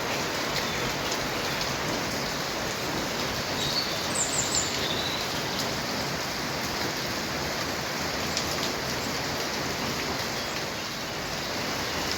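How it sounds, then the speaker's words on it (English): Steady rain falls in a garden, a dense even hiss of drops on leaves and ground that continues without a break, with faint bird calls briefly audible. "All right, the rain coming."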